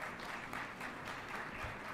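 A seminar audience claps steadily in a dense wash that fills the whole moment, fairly quiet and without speech.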